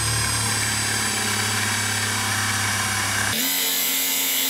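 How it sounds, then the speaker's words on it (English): Power tool cutting a hole in a plastic bucket for a poultry waterer, a loud steady motorized whine that cuts off abruptly near the end, leaving a quieter lingering hum. "So he's going to go ahead and cut the hole in the bucket."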